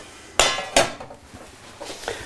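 A metal frying pan is handled in a kitchen, giving two sharp clanks close together near the start, then softer knocks and clinks.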